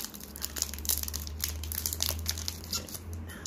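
Foil wrapper on a Pokemon card booster pack gets pulled and torn in close, quiet bursts of crinkling and crackling over a low steady hum.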